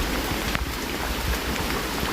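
Heavy rain falling steadily during a flood in Padang Harapan, Trumon, a dense, continuous hiss of drops on surfaces, loud and even throughout, with no talking.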